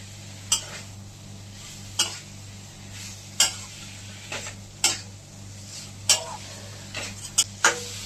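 Potatoes and drumsticks being stirred in a pan while cooking a posto dish, sharp intermittent scrapes and clinks of a spoon roughly every second or so over a low steady hum.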